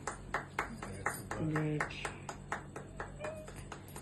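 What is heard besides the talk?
clapping hands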